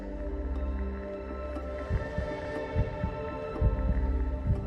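Human heartbeat, a slow steady double thump repeating about once a second, soft and close over a low constant hum, with no talking.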